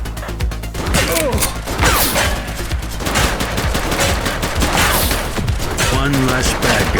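Sustained gunfire in the police video game The Precinct, repeated loud shots and crashes over several seconds, with voices speaking in between.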